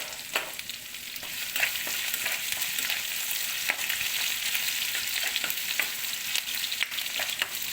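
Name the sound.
chopped garlic and ginger frying in ghee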